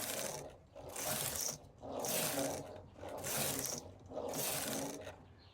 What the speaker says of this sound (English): fix the carriage on hold and knit 5 rows